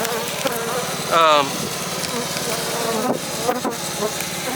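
A honeybee colony crowds a hive feeder during spring feeding, giving off a steady, close, dense buzzing hum that runs throughout, with a brief louder swell of whining tone partway through.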